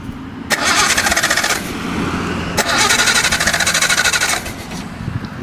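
A 1974 Datsun 260Z engine with old spark plugs cranks and catches twice, each time running roughly with an uneven skip for one to two seconds, loud and close with no talk.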